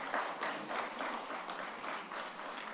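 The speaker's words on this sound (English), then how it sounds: "So big round of applause for our speaker" Audience applause for a speaker at a budget impact analysis seminar, a steady wash of many hands clapping at moderate, slightly distant level for a few seconds, with no talk over it.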